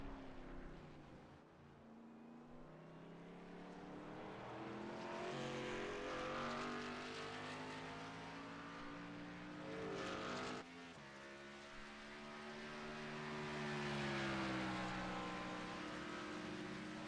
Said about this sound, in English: final lap of the race with Scott Patton coming around back onto Speedway 1 and 2 this time